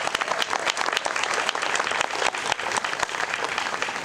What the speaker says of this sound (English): could we please recognize them with a nice big round of applause?